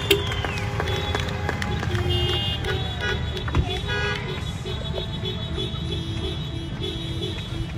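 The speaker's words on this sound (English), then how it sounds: "Honk your horns, clap your hands." Several car horns honk in repeated bursts and long toots over a steady crowd din, with scattered clapping and cheering.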